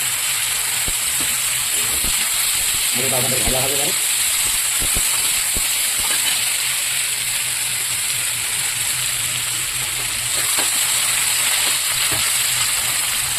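Potatoes hit very hot oil with cumin and dried chilli, giving a loud, continuous sizzling hiss close by, while someone speaks briefly over it.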